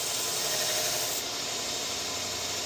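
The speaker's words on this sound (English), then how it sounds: "So we'll skip the coarse grind, go straight to the polish." Small fabric shears being polished on a sharpening stone, a steady close rubbing rasp that runs unbroken with no talk over it.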